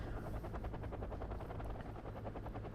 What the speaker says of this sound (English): He's putting the Black Hawk helicopter up front.